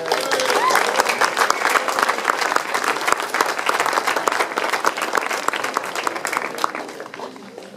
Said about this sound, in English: So please give the host families a big round of applause.